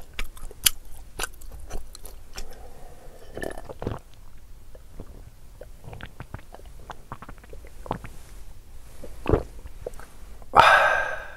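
Close, wet chewing and crunching while eating a large fish-shaped bungeoppang pastry, soft bites and mouth sounds spread across the clip, ending with a louder burst near the end, no talking.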